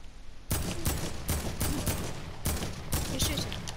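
Video game gunfire in Fortnite, loud bursts of rapid shots arriving in several volleys over a few seconds, close and sharp, with a continuous game background underneath.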